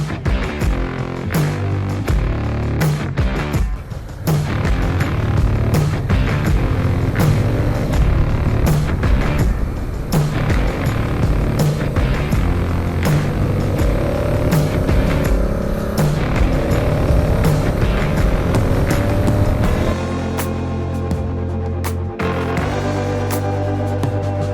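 A 2017 Honda Africa Twin standard motorcycle on the move, its engine a loud, continuous rumble with wind noise, steady throughout and shifting in tone near the end.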